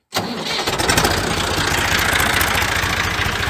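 A tractor engine cranks and catches abruptly, then settles straight into a loud, steady chugging idle close by.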